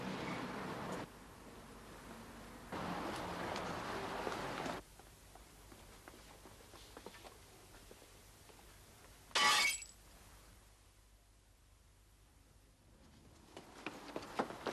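A pane of glass in a door is smashed once, a sharp bright shatter midway through an otherwise quiet scene with faint movement and low background noise before and after.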